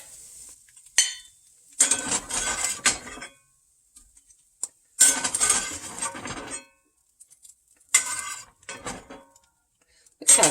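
Scrambled eggs are scraped from a skillet onto a plate: several bursts of metal-on-pan scraping and clinking of a spatula and dish, separated by short pauses, close and fairly loud.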